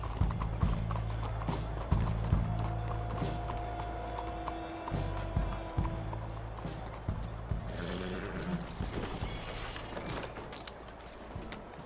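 Horse hooves clip-clop at a steady walking rhythm in the Red Dead Redemption 2 video game, close and clear, then slow toward a stop as the rider hitches up, with game music and a brief voice in the background.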